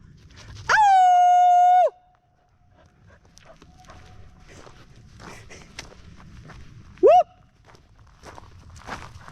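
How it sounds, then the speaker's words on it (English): Howl-like calls in the woods: a long, loud, steady howl, then quiet footsteps and rustling, then a short rising howl in reply. "They like to make little dog howling noises when they call each other."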